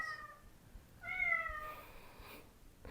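A house cat meows several times, a short call followed by a longer, louder drawn-out meow, close by in a quiet room with faint background noise.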